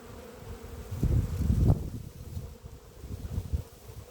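Honey bees buzzing around an open hive during a spring inspection at an apiary, a low droning hum that swells loudest in the middle and then settles into a steady, moderately close background buzz with no talk.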